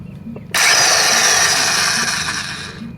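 A power tool whirs on abruptly and runs at a steady, loud, high-pitched drone close by, turning a bolt extractor on a Honda Civic rear shock bolt.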